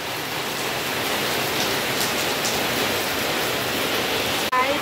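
Heavy rain pours steadily outside a house, a loud, dense wash of falling water that fills the whole clip without pause, with a brief dip and a faint knock near the end.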